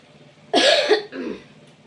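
A single close cough bursting out mid-clip, followed by a shorter, softer cough or throat clear in a quiet indoor room.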